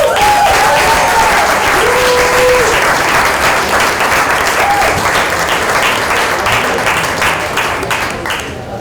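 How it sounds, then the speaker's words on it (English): Loud, dense applause fills a conference hall for several seconds. Audience voices whoop over the clapping early on, and the sound slowly fades toward the end. "will you please give everyone a round of applause?"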